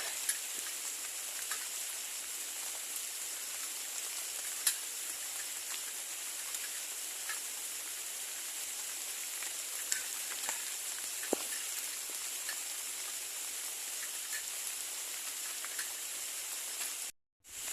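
Steady rain falls outdoors while a wasp nest is being moved, making a constant bright hiss dotted with faint individual drop taps, with a brief gap near the end.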